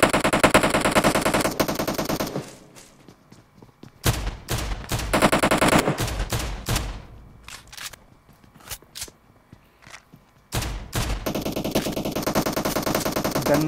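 Loud bursts of automatic gunfire in a video game, long rattling streams broken by a quiet gap that holds a few separate sharp shots, then another sustained burst near the end.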